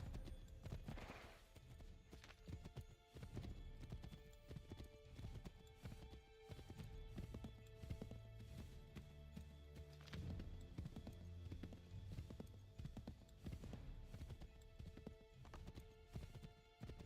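Rapid, rhythmic hoofbeats of a horse galloping in Assassin's Creed III, continuous clip-clop with an occasional whinny, heard quietly under game ambience.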